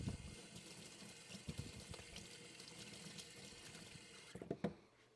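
Rinse water flowing steadily through a Grainfather G70 brewing system, a continuous close splashing rush that ends abruptly with a few final drips and gurgles, no talking.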